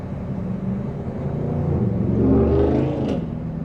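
A car engine hums and swells as a vehicle passes close by on a Texas road, growing louder toward the middle before easing off, with a steady road rumble throughout.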